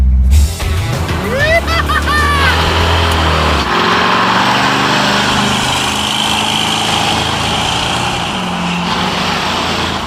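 A junkyard Ford Mustang Mach 1 accelerates on a drag strip, its engine note climbing in pitch through the gears before settling into a loud, sustained roar.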